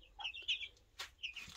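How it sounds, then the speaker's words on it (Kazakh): A hen with her chicks hiding beneath her gives soft, close clucks mixed with high, thin chick peeps in short bursts, with a brief rustle of movement and no talking. "Мына тауықтың астында балапандары тығылып қалыпты."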